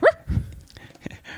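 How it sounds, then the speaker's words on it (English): A dog barks sharply once at the start, then a few softer yips and whimpers follow, fairly close and loud against a quiet room. "our dog's making too much noise"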